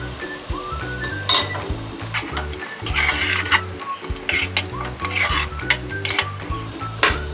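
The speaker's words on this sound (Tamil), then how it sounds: "தயிரை ஊற்றிக்கிறேன்." Yogurt goes into sizzling masala in a pressure cooker and is stirred, a steady frying hiss beneath repeated scraping and clinking of a metal spoon against the pot, close and busy.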